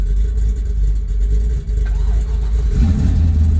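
A Corvette drift car that sat for years fires up and settles into a loud, close idle, the low rumble swelling slightly near the end.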